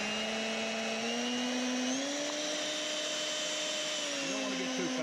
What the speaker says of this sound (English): I like to shift gears on a mixer.